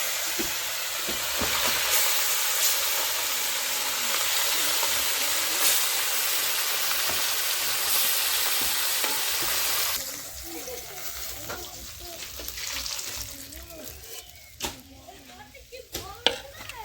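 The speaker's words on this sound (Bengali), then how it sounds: "বেশি ভাজবো না, হালকা করে ভেজে নেবো।" Boroli fish lightly frying in a pan, a loud continuous sizzle that drops off partway through, leaving quieter crackling with spatula knocks and some speech.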